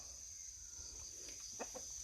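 Chickens in a backyard coop at a rural home in Yongin, a few faint clucks near the end under a steady high insect-like whine and low background rumble.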